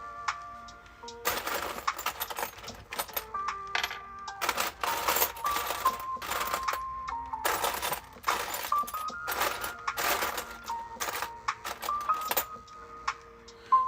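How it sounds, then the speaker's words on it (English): Old handcuff keys jangle and clink in repeated bursts as they are sifted by hand, close and crisp, with short quiet gaps between handfuls. "Just me sifting through keys."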